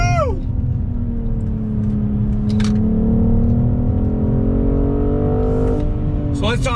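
A 2021 BMW M440i all-wheel-drive sport coupe accelerating hard, its engine note climbing steadily through quick gear shifts, loud and close from inside the car.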